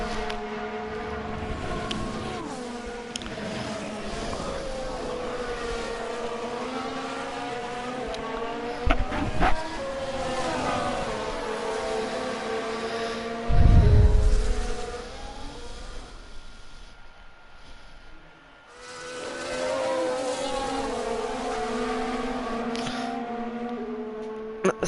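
F1 race cars with Mercedes engines in the F1 Manager video game, engines droning and shifting pitch as they pass, with a brief loud burst mid-way, then a lull before the engine tone returns; no talking.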